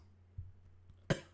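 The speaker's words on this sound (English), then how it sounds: "When the weather gets very, very cold, then I'll have cold coughs." A single sharp cough from someone with a cold, close and fairly loud against a quiet room, preceded by a soft throat sound.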